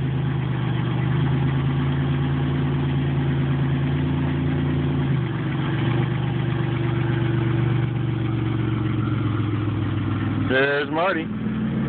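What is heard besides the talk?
car engine revving and pulling away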